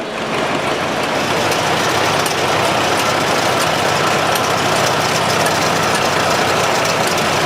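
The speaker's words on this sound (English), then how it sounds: "This next John Deere is a 1935 Model A" A 1935 John Deere Model A tractor engine runs loud and steady at a county fair tractor parade, a continuous rough idling rumble with knocking texture and no break throughout.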